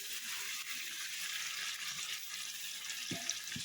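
Marinated chicken, coated in yogurt and black pepper, goes into hot oil with poppy seeds for a chicken rezala, giving a close, steady hiss and sizzle with a brief clatter near the end.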